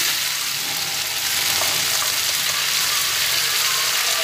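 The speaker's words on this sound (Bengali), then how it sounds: "নাড়াচাড়া করে নিচ্ছি" Vegetables for shukto frying in a pan and being stirred, making a dense, steady, fairly loud sizzle that runs evenly throughout with no talking.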